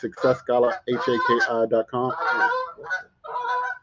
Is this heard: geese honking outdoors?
yes